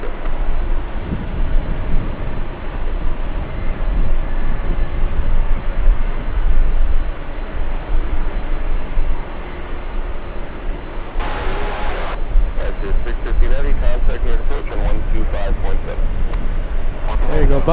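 A Boeing 747 touching down on landing, a steady loud broadband roar of engines and airflow filling the whole stretch, with a brief burst of brighter noise partway through and crackling texture toward the end.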